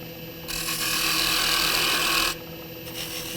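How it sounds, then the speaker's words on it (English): A 1/4-inch spindle gouge cuts a cove into a turning wooden kitchen scoop on a lathe, giving a steady, loud rasping hiss that lasts about two seconds before the tool lifts off the spinning wood. "if you have a 1/4-inch spindle gouge, it gets down in this corner and makes a nice clean cove"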